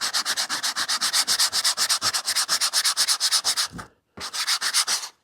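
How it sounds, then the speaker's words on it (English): Dried foam is sanded off a Ford F-150 headliner with 80-grit sandpaper. The close, loud rasping strokes come in a quick, steady back-and-forth rhythm, with a brief pause before the scrubbing resumes. "So sandpaper, 80 grit."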